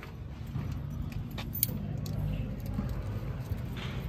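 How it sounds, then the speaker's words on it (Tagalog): Car keys for a Toyota Commuter van jangle in a short close metallic burst, with a faint low hum behind. "So ito yung susi niya mga boss"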